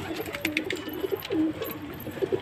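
Several soft, low pigeon coos repeat close by, gentle throaty calls over a quiet outdoor background.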